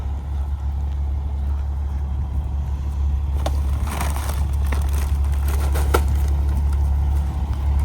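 An International rear loader garbage truck with a Wayne body drives along, its engine a steady low rumble heard up close from the back, with occasional rattles and clanks on top.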